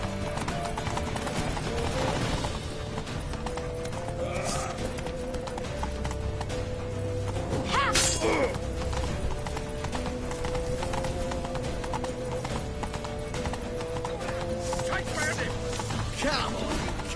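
Horse gallops with rapid rhythmic hoofbeats in The Witcher 3, carrying steadily over game ambience with a whinny and some distant speech mixed in.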